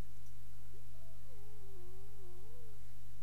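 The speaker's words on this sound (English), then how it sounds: "That reminds me of some meow." A single drawn-out cat meow, wavering and fairly clear, rises over a constant low electrical hum with no talking.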